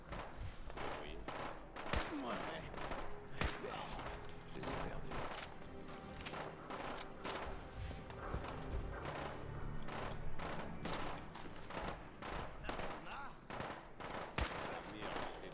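Rapid, dense gunfire from the video game Fallout 4, shots and bursts crackling nonstop over a busy combat mix, with players talking over the action.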